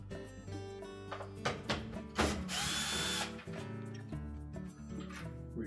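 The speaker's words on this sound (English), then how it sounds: "Now our next step will be to remove these 2 screws that secure that valve to that tray." Power screwdriver backing out two screws that hold a valve to a tray, with short whirring bursts, clicks and mechanical clatter at close range, and one longer loud run in the middle.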